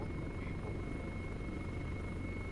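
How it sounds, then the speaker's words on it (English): Helicopter rotor and engine drone fills the whole span as a steady, dense, unbroken roar with a faint high whine, heard through surveillance equipment during a military operation, with no talk. "I have a helicopter and I have a helicopter with multiple people."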